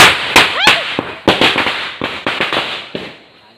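Firecrackers and sparklers going off during a Tulasi festival celebration, a string of sharp loud cracks and pops at irregular intervals, several bursts close together with whistling streaks, no talking.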